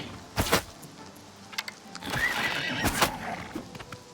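A horse in Elder Scrolls IV: Oblivion Remastered whinnies loudly several times, with hoof clops and game sounds scattered between the calls, all up close and with no talk over them.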